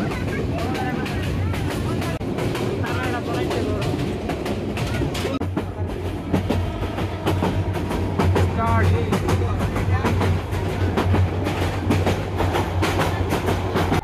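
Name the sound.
passenger train running on rails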